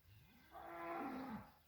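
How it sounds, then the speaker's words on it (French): A single cow moos once, a long, drawn-out call that rises and then falls, heard at moderate distance outdoors with a quiet rural background. "Et la vache qui appelle"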